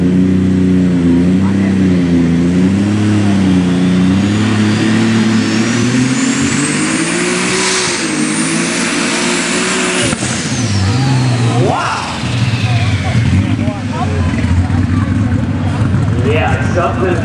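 A Dodge unlimited super stock pulling tractor at a tractor pull in Wilmington, Ohio roars loudly and continuously, its engine pitch rising and wavering as it revs hard, with an announcer talking over it.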